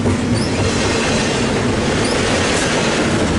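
A long port stacker freight train passes close by at Commerce, a loud continuous rumble of wheels and railcars with faint squeals, filling the whole stretch.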